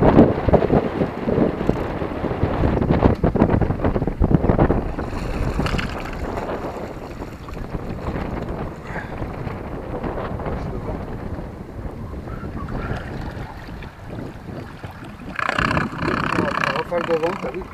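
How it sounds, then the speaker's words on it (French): Wind gusts buffet a boat on the water, a rough, roaring rumble that swells and fades across the microphone, with a stronger surge near the end and people talking over it. "Rafale de vent, t'as vu?"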